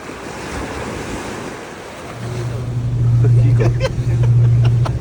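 Strong wind buffets the microphone over steady ocean waves aboard a boat near Catalina Island at dusk, loud and continuous, with a low engine hum joining partway through.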